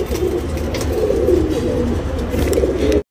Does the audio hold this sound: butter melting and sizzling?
no